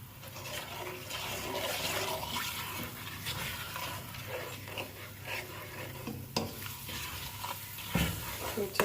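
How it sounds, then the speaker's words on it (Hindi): Onions frying with ginger, garlic and spices in a pan while being stirred, a soft steady sizzle and scraping close up under light background noise. "तो अच्छे से भूनेंगे, और इसके अंदर जिंजर गार्लिक ये हमने इसको भून लिया है।"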